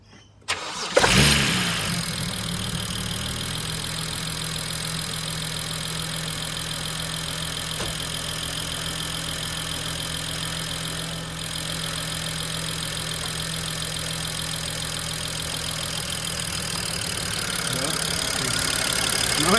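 A car engine cranks briefly and catches, then settles into a steady, fairly loud idle with a constant hum and a slight mechanical clatter, running close by without talk.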